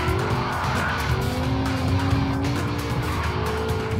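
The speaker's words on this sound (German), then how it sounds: "reiht einen Drift an den nächsten und pendelt munter über die Landebahn" A BMW M6 drifting on an airfield runway, tires screeching in long wavering squeals over a loud, revving engine, close and continuous.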